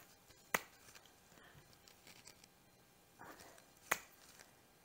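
Two sharp, isolated hand claps land a few seconds apart during clapping push-ups at home, crisp and close against a quiet background.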